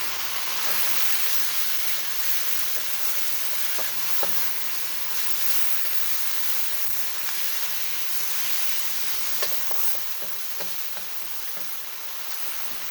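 Garlic and pork stir-fry in hot vegetable oil for a rice cake dish, giving a steady, even sizzling hiss throughout with a few faint pops and clicks, close up and with no talking.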